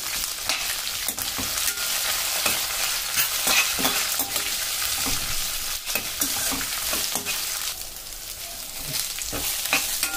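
Steady sizzling of tamarind and cumin roasting in a hot pan, with a utensil stirring and scraping now and then, continuous and close.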